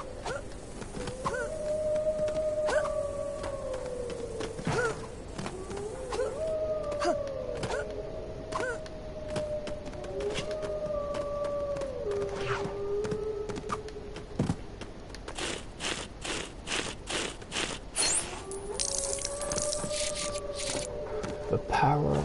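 Fang the dog from Lego Harry Potter lets out repeated drawn-out, sliding howls at moderate volume, spaced across the stretch amid scattered game clicks and effects.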